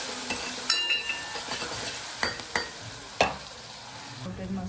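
Chopped onion frying in a pan, a steady sizzle broken by a few sharp scrapes and clinks of a spoon against the pan, close and fairly quiet, with no talking.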